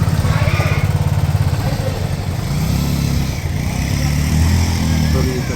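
A motorcycle engine idles and revs loudly nearby as the bike is moved up at a hotel, a throbbing mid-pitched rumble with people talking over it.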